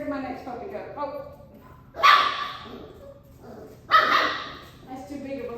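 A puppy among a litter barks and yips with two sharp, loud bursts close by, separated by softer whimpering, while a person talks nearby.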